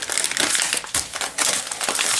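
Sealed Mylar bags crinkle and clear shipping tape is handled, giving steady close crackling and rustling with a few sharp bursts, no voices.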